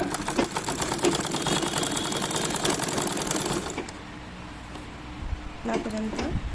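A domestic sewing machine stitches a square-neck nightie, its rapid even needle clatter running for about four seconds before stopping, followed by quieter handling noises and a brief restart near the end.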